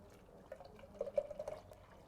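Melted Icelandic butter, 500 grams, is poured into a container, giving a faint, soft liquid trickle with a few gentle drips that peak briefly midway.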